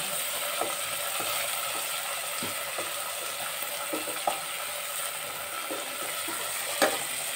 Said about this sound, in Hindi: मटर डाल दी है मैं इनको चला रही हूँ थोड़ी से फ्राई कर